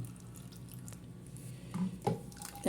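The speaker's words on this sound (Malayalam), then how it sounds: "കടല മുങ്ങിക്കിടക്കാൻ പാകത്തിന് വെള്ളം ഒഴിച്ച് കൊടുത്തിട്ടുണ്ട്" Water poured into a cooking pot over chickpeas gives soft trickling and splashing at close range, quiet at first and then a few louder splashy bursts toward the end.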